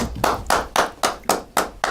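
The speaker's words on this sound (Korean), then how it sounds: "큰 박수 한번 주십시오." A small group claps in a slow, even rhythm on a Korean broadcast about Gyeonggi local currency, about seven distinct sharp claps close to the microphone with no talk over them.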